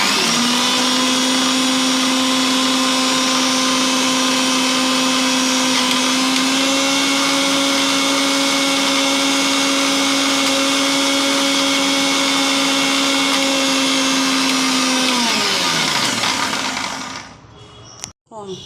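An electric blender grinds ripe mango, poppy seeds and mustard seeds into a paste, running as a loud, steady whine with a slight pitch shift partway, then spinning down and stopping near the end.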